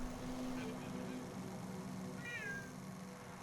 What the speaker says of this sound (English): Who's meowing?